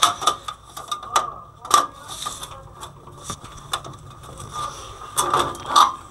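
A PC motherboard is fitted into a case and screwed down, giving a run of short plastic clicks, ratcheting ticks and light metallic taps, close up and irregular.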